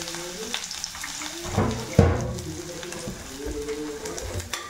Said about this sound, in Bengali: এবার তেলটা গরম হয়ে গেছে, আমি ওর মধ্যে রসুন কুচি, আদা কুচি দিয়ে দিলাম।